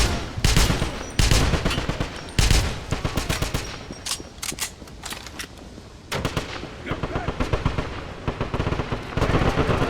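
Intense gunfire battle in the World War II shooter game Wolfenstein: The Black Sun, with dense machine gun bursts and repeated loud shots in rapid irregular volleys, shouted voices mixed in throughout.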